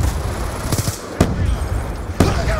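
Gunfire from the Black Ops 2 video game: a steady, dense rattle of automatic fire with two sharp, louder shot bursts standing out, close and continuous without talk.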